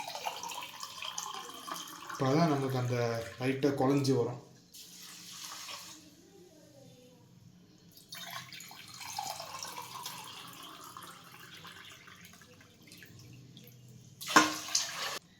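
Water poured into a cooking pot for Tamil venn pongal, a splashing, gurgling pour for the first few seconds, then quieter stirring and kitchen noises while someone talks over it.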